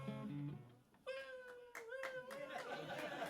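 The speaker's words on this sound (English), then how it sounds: "One person claps." A lone audience member claps in a small comedy venue during a stand-up set, with a few scattered, distant hand claps under a voice speaking.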